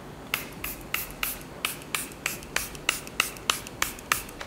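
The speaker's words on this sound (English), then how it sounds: "I'm gonna spray my face now" A face setting spray pumped repeatedly onto the face during a makeup routine, about a dozen short crisp hissing spritzes in a steady rhythm, close and clear with no talking.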